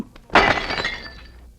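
A single sharp crash of glass shattering in a Tagalog drama film scene, followed by a brief ringing tinkle of shards that fades within about a second.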